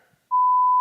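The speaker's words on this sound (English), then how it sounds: "Can you just say the company and we'll beep it out?" A censorship bleep covers a crochet footwear company's name during an interview: one steady, loud electronic tone starts after a short quiet gap and holds to the end.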